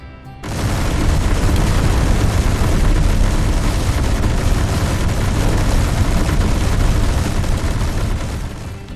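Autocannons on a Space Engineers battlecruiser fire in a continuous, roaring barrage that starts abruptly and holds steady and loud for several seconds before easing slightly.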